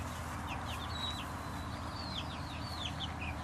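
Backyard chickens clucking in a greenhouse setting, a cluster of short chirpy calls and clucks repeating over a steady low background hum, moderately close.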